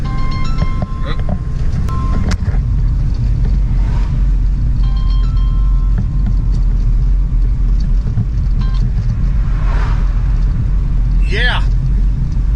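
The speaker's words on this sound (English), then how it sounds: "I'm driving down the road." A car driving down a road, its steady engine rumble and road noise loud and continuous throughout, with a few faint tonal sounds above it.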